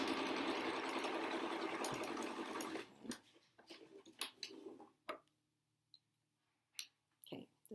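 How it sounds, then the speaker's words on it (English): A sewing machine runs steadily while stitching a zigzag across a replacement mask, then breaks into short stop-start bursts with clicks between them. "and then do a zigzag across."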